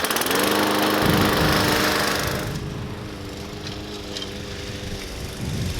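A lawn mower runs close and loud, cutting grass to make a small golf green, its engine droning steadily and easing slightly in pitch partway through.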